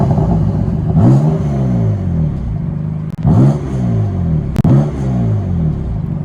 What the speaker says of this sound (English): let me give you guys a few revs so you can hear how the car sounds